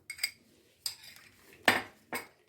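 A tablespoon stirs aloe vera gel into a garlic cream in a bowl, making four separate close scraping clinks of metal against the dish with quiet pauses between them.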